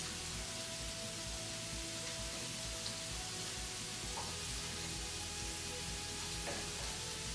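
Cottage pie filling sizzles steadily in a hot pan as tomato puree is stirred in, a dense, even frying hiss with faint scrapes and clicks of stirring, without speech.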